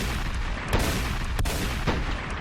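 Gunfire in a Ukrainian shooter video game: three sharp, booming shots ring out about half a second apart over a dense, noisy game background, with no talking.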